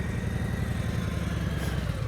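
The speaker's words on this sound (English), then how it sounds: "as soon as you start this motorcycle, as soon as it starts to move" A motorcycle engine idles steadily and close by during a slow-speed riding practice session in California, its low, even rumble running without a break and with no talking over it.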